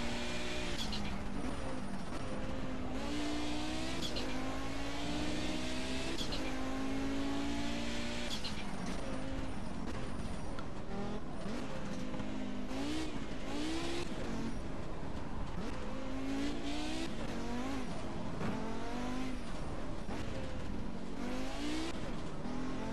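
A Ford Mustang Cobra Trans-Am at Ruapuna Park in Project CARS runs hard and continuously, its engine rising and falling through shifts as tires squeal and slide under braking.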